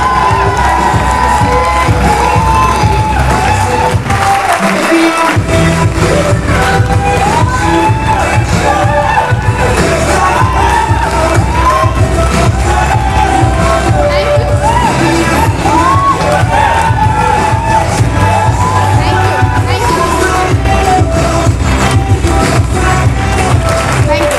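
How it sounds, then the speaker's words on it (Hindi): An indoor audience at a success-story event applauds and cheers loudly and continuously, with whoops and shouts rising out of the dense clapping for over twenty seconds. "या तो अपनी बेटी समझ के तालियां बजाना या खुद को समझ के ताली बजाना"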